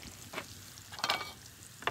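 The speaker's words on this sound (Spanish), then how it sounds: "Ya está doradito también el Winnie o la salchicha." Sliced sausage frying in a pan and being stirred, a steady sizzle broken by three short scraping bursts from the spoon, close and quiet, no speech.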